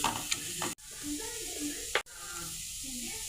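Chopped beetroot is stirred and sautéed in a pan, with soft sizzling and scraping strokes that are interrupted by two abrupt cuts to silence.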